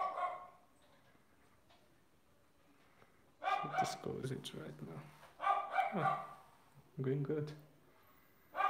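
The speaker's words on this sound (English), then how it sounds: "Oh, you can hear my dog sound. It barks every time." A dog barking indoors in several loud, close bursts of repeated barks separated by pauses, with a person speaking briefly between them.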